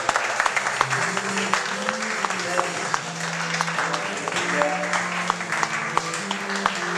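A worship congregation claps during a service, sharp hand claps scattered over a sustained musical or sung tone, with voices present in the mix throughout.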